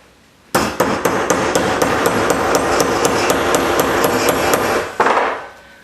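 Sharp, evenly spaced hammer taps ring out against the iced-up armature of a Craftsman table saw being repaired, roughly a dozen close metallic strikes in a quick steady rhythm with a brief louder clatter at the end.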